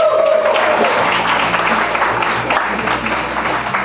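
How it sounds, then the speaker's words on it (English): Audience applause at a comedy club as the host is welcomed on stage, a dense burst of clapping that is loud and continuous, sustained and close. "Would you please put your hands together for your host and compere for the evening, Mr. James Nolan!"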